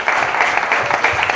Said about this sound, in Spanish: Creo que merece un fuerte aplauso, Carlos,